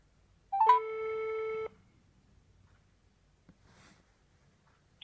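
One long electronic telephone tone sounds on an outgoing call to an employer about a truck-driving job, then leaves faint room noise behind it.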